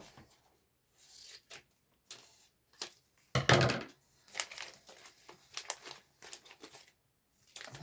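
Ribbon is handled and cut while a bow is being made, with close, scattered crinkles and rustles and one louder rasping snip or tear near the middle, and no talking.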